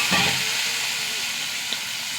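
Onion and chilli fry with mustard seeds in hot oil, giving a steady, close hiss and sizzle that holds evenly through the short stretch.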